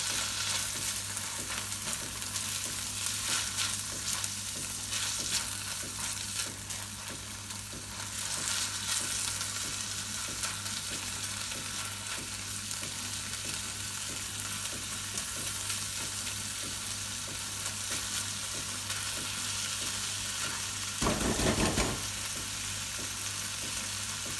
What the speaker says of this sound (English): we're just going to dry roast these